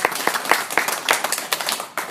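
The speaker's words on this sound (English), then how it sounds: "I think we should all give Claire a round of applause before we start." A small audience at an evening lecture on the Crime and Corruption Commission claps, a sparse patter of individual hand claps rather than a full roar, close and fairly light.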